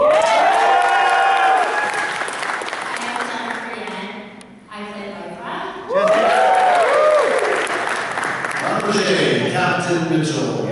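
A convention panel audience applauds and cheers in a sustained, dense wash of clapping, with a brief dip near the middle before it swells again, and voices carry through the crowd noise.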